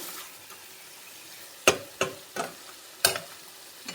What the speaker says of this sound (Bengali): মশলা এখানে তো কষানো হচ্ছে